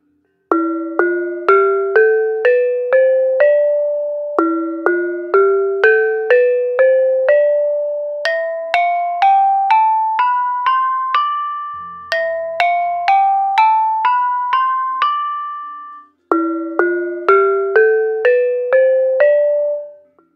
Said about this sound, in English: Pelog is a seven-tone scale with semitones and it sounds like this.